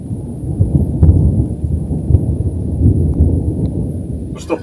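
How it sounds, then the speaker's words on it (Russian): Thunder rolling during a thunderstorm with rain, heard from indoors: a deep, continuous low rumble swelling and fading over several seconds, fairly loud, with a brief brighter crackle at the very end and no talk. "пока там гремит гром, сверкают молнии, на природе за окном идет дождь"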